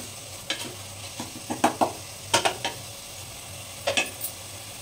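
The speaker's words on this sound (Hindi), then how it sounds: "राइस और दाल को मिक्स करते हैं।" A spoon scrapes and knocks in a cooking pot while rice and dal are stirred together for masala khichdi, with a faint sizzle beneath; the close strokes come in irregular clusters with short pauses between them, and no one speaks.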